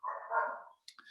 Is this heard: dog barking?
yes